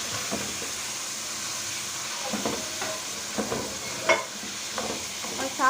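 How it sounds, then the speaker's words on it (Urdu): Sliced onions frying in a pan for aloo gosht, a steady close sizzle and hiss with occasional stirring scrapes and clinks, no voices. "اب اس اسٹیج پہ ہم 3 سے 4 کٹی ہوئی سلائس پیاز ڈال دیں گے"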